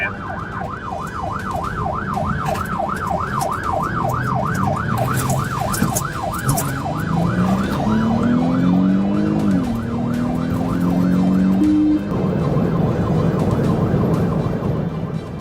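A police car siren wails in a steady rapid yelp from a pursuing cruiser during a high-speed dashcam chase of a GMC Envoy, loud and continuous over road noise, with a second rising tone joining partway through.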